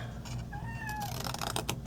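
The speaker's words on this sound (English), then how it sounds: "You guys can hear my cat." A house cat behind a closed door gives one drawn-out, rising-then-falling meow, close and clear over a low background hum with some rustling after it.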